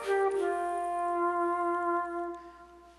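A digital trumpet, an electronic wind instrument, plays a sustained brassy tone with rich harmonics, mimicking a chicken, held for over two seconds before fading out, alone with no talk.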